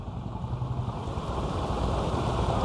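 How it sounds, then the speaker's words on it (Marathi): A vehicle drives through rain-flooded city streets in Osmanabad (Dharashiv), a steady broadband wash of water spray and rain noise with low rumble, continuous and fairly loud, no voices. "गाडी कशी चालते पावसामध्ये"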